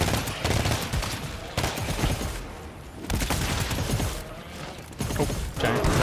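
Gunfire in the game GTFO, loud close bursts of rapid automatic fire in repeated volleys, separated by short pauses with mechanical clatter.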